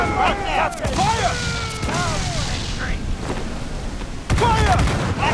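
Ship cannons from Assassin's Creed 4: Black Flag fire in several heavy booms spread across the moment, with a louder blast near the end, while shouted voices call out between shots over constant battle noise.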